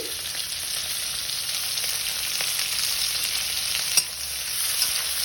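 Chopped onions fry in hot oil with a steady, even close sizzle and faint crackle, one brief clack of utensil near the end; no voices.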